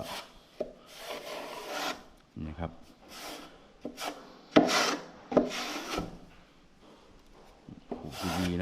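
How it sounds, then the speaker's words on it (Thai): Rasping strokes of a tool scraping acrylic wood filler paint into open wood grain, a series of short uneven scrapes separated by pauses, close and fairly quiet. "ขูดให้เต็มพื้นที่ไปเลยนะครับ"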